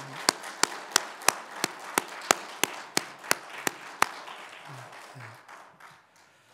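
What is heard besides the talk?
congregation applauding standing in church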